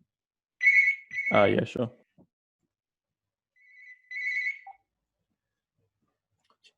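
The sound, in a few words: telephone ringing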